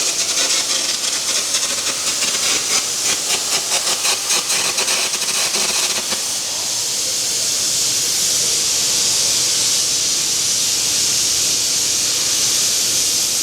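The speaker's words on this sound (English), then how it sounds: "doing some arc gouging there off the Kempe X5P" Arc gouging with a Kempe X5P welder, steady loud hiss and crackle with rapid pulsing for the first six seconds, then a continuous broad roar through the rest.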